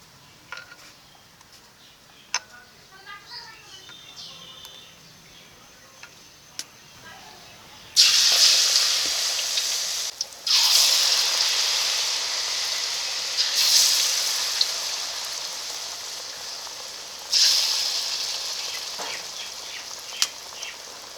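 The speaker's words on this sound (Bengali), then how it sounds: "চালের গুঁড়োর ব্যাটারের ভিতরে আলুর পাতাগুলো ডুবিয়ে এই তেলে বড়া ভেজে নেব" Potato leaves dipped in rice-flour batter drop into hot oil, setting off loud, bright frying hisses in several surges after a quieter stretch of faint kitchen clinks.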